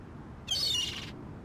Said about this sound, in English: It's a seagull.